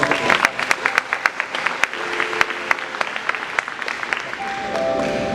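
A church congregation claps in scattered, uneven bursts, with sharp individual claps standing out over a low murmur, loud and close, growing into a steadier wash toward the end.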